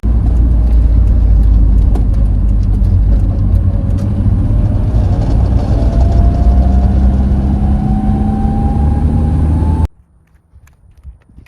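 A Nissan S13 with an SR20 engine swap drives along with a loud, steady engine drone and road rumble, its pitch slowly climbing with speed, then cuts off abruptly near the end, with no talk.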